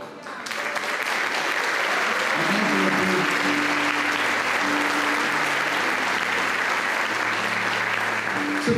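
A church congregation applauds steadily and loudly for the whole stretch, with dense sustained clapping and some voices and a few sustained tones heard underneath.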